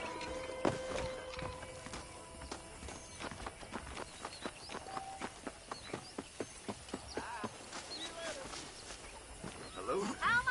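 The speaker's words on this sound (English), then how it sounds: "The horses are saddled up over here." Horses gallop in the Red Dead Redemption video game, with a run of rhythmic clip-clop hoofbeats under a speaking voice and ambient game sound, moderately faint.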